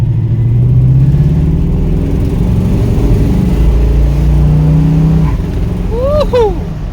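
A car engine with a carburetor and distributor fault revs hard and loud, running rough with popping and sputtering before easing off, and a short whistle-like tone near the end.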